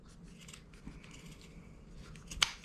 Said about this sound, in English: trim the bottom so it's more even.